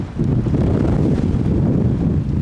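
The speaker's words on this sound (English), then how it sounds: "Gusts of wind, 60 mile an hour gusts." Strong wind gusts of about 60 mph roar across a valley landscape, a loud, constant buffeting rumble battering the microphone with no voices.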